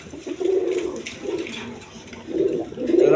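Pigeons coo in a series of loud, close, rolling calls, three or four swelling bursts with short gaps between them.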